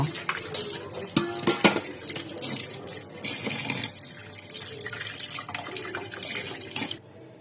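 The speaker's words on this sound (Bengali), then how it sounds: "এই যে ইলিশ মাছ এখন ধোয়া হচ্ছে মাছ মাছগুলো ভাজার জন্য" Hilsa fish being washed under running water at night in a village kitchen: continuous splashing and trickling with clinks of pots and dishes, louder bursts early on, ending abruptly near the close.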